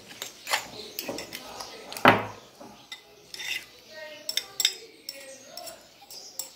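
Eggs and bacon being mixed in a bowl for an omelette, with repeated scraping, clinking strokes of a utensil against the bowl and one sharper knock, close and moderately loud.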